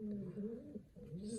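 Pigeons in a breeding loft coo softly at close range, low rolling calls repeating in a gentle rhythm.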